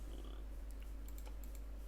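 Mouse clicks on buttons in a game launcher for Bannerlord, a few faint, sharp taps scattered over a quiet, steady hum, with no talking.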